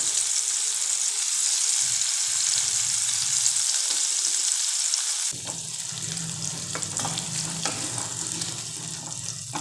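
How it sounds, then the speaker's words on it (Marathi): Paneer frying in a pan gives a soft continuous sizzle with a bright hiss, then the sound shifts partway through as stirring and scraping join in, with crackling spatters close by and no voices. "आता अगोदर आपण पनीर फ्राय करून घेऊयात"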